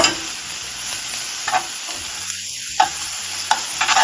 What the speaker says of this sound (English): I'm going to add the garlic and my jalapenos and the red onions